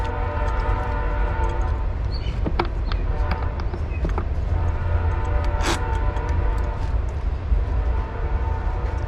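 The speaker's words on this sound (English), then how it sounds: "Gotta love that train." Train passing nearby during a DIY power station build, a loud continuous low rumble with tonal horn-like layers and occasional clanks throughout, no speech.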